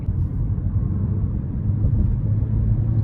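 A 2024 Hyundai Kona SE with a four-cylinder engine on a test drive: a steady low engine rumble as it accelerates gently from inside the cabin, no talking.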